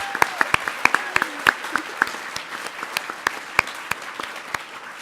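An audience at Colorado State University's 2017 Distinguished Alumni Awards gives honorees a scattered round of applause, with distinct individual claps standing out sharply against a thinner, softer patter.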